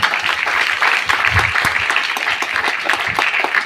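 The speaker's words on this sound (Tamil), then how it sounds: "உண்மையிலே கை தட்டி பாராட்டுங்க" A crowd at a political rally claps in sustained applause, dense and continuous throughout, with a few louder bursts rising over the steady patter.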